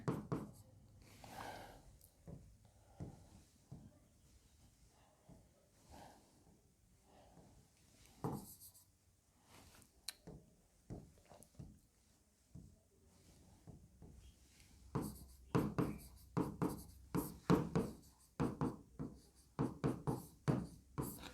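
Chalk or marker tapping and scratching on a board during a Hindi history lesson on Jainism, with scattered clicks that come in a denser burst near the end and no voices over it.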